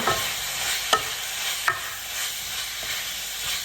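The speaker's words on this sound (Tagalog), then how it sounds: "Lutuin lang natin itong hotdog at saka yung chicken." Hotdog and chicken fry in a pan for a homemade spaghetti with Italian sauce, a steady close sizzle of oil broken by a couple of sharp utensil taps and scrapes.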